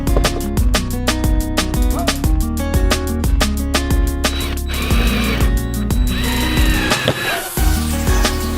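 A power tool buzzes and ratchets in repeated short bursts while tightening down the motor of a homemade pottery wheel, loud and close, with bursts of whirring and clicking between them.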